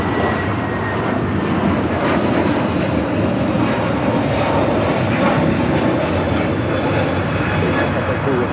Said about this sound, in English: That is United Airlines 311 taking off to Denver, Colorado on the A321neo